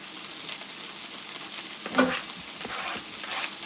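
Onions and carne asada sizzle together in a hot pan, a steady fizzing fry with a slightly louder scrape or stir near the middle, no voices.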